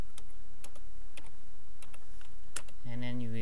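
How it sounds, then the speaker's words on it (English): Typing on a computer keyboard to enter a Linux terminal command in Ubuntu, a handful of crisp separate key clicks at an uneven pace over a steady hum, ending as a voice begins speaking. "you should type sudo su"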